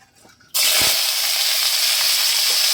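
Cauliflower florets hit a hot pan and burst into a loud, steady sizzle of frying that runs unbroken after a quiet start.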